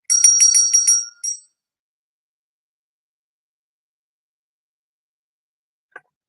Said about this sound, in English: As a matter of fact, for Sandy, it's a healing bell with prayers, with love